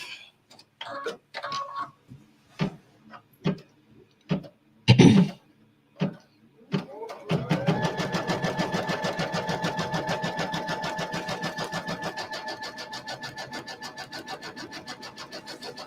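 An embroidery machine stitches a fabric placement line in a hoop while making a quilted pillow, starting after several scattered clicks and knocks, then running as a steady, fast mechanical ticking and whirring for about eight seconds, nearby and without talk.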